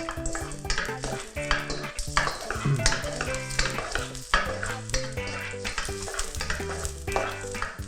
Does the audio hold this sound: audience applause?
no